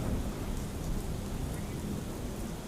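Heavy rain pours steadily over Vapi, with flooding on the highway. The downpour makes a dense, constant hiss with low rumbling underneath and no pauses.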